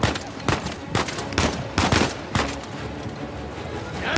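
Bursts of gunfire in the video game Uncharted 4, with about six sharp volleys spaced roughly half a second apart, loud and close, over a steady backdrop of game ambience.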